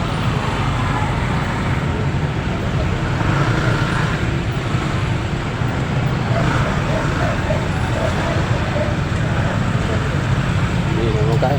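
Heavy, slow-moving road traffic with cars, buses and trucks forms a loud, steady rumble of engines, while a person talks over it throughout.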